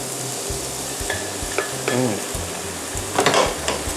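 Konjac sizzling loudly in a hot pan as sauce goes in, with a spoon stirring and scraping against the metal in repeated strokes.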